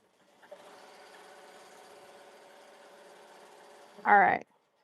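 An embroidery sewing machine runs steadily, stitching a Mother's Day design at moderate distance for about four seconds, followed by a short louder bump or clatter at the end.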